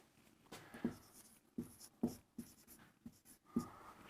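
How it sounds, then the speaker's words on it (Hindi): A number being written on a board in a mathematics lesson, heard as a series of short scratchy strokes in uneven groups, close and clear, with no speech. "चलो मैं उदाहरण के लिए एक संख्या लिखता हूं।"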